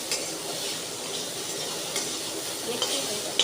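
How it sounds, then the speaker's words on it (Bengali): Food sizzles and fries in a pan while a utensil stirs it, a continuous close crackle and hiss broken by a few scraping strokes. "ভাজাটা প্রায় হয়ে গেছে"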